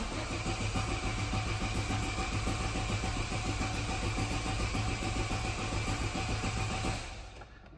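A 1990 Citroen BX14TE St Tropez engine, started on manual choke, runs with a steady mid-pitched idle close by, then drops away abruptly as it shuts off near the end.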